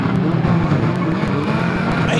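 Racing cars piled up at turn four during a BWS wild card final race at Mildenhall, engines roaring loudly and continuously with tire skids, one sustained dense mass of motor noise with faint voices under it.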